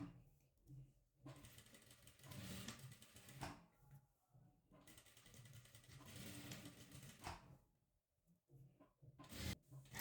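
Sewing machine running V-stitches along the neckline of a crop top, in several whirring bursts of a few seconds each, broken by short pauses, close and fairly loud.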